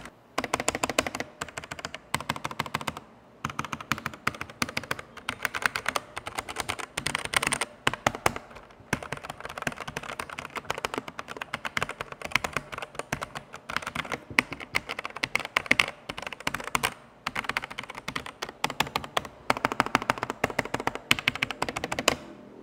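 Rapid typing on a Wizmax Micronics ZK-2 mechanical keyboard with tactile brown switches: dense bursts of close, crisp keystroke clicks with short pauses between runs, no voices.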